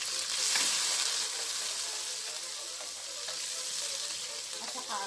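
Onion and tomato sizzle steadily in a hot pan for pinakbet, a close, continuous bright frying hiss with faint stirring scrapes and no talking.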